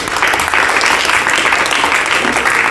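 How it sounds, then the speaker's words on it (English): A room of students applauds a fellow student at a school event, loud dense clapping that stays steady and continuous throughout with no break. "I want you guys to give him a round of applause"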